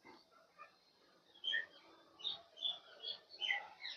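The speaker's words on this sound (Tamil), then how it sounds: "இவங்க கிளிகளோட சத்தத்தை பாருங்கள் கோபுரங்கள் எல்லாம் கிளிகள் இருக்குது" Parrots and pigeons on temple towers: faint scattered bird chirps and squeaks, several short calls in the second half, distant and soft against a quiet background.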